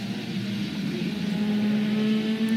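A race car engine drones at a steady pitch that rises slightly as the driver touches the throttle, a continuous mechanical whine heard from on board with no voices.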